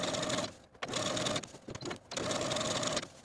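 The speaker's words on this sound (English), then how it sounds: "now I'm going to edge stitch all along the bottom of the dress close to this inner fold" Sewing machine running in steady bursts while edge stitching along a dress hem close to an inner fold, a fast continuous whir with two brief pauses, close and clear with no talk.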